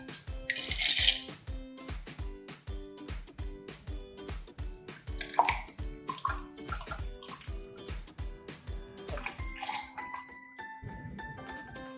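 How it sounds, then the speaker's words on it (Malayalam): Ice cubes dropped one by one into a serving glass for a watermelon sharbat, giving a rapid run of bright clinks and knocks that ring briefly, with watery splashes and rattles between. "സെർവിങ് ഗ്ലാസ്സിലേക്ക് ഐസ് ക്യൂബ്സ് ഇടാം."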